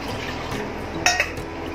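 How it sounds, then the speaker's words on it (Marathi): Water splashes briefly into a metal plate holding rice-flour dough, with a short clink of utensils, close and fairly quiet. "याच्यातच पाणी घेऊया।"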